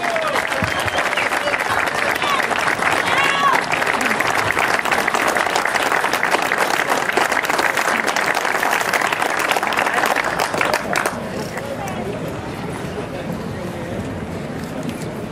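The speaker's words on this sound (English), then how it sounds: "Round of applause, ladies and gentlemen" An outdoor crowd applauds at speeches after a parade through Newtownards, a dense, steady wash of clapping that carries on for many seconds before easing slightly and continuing at a lower level.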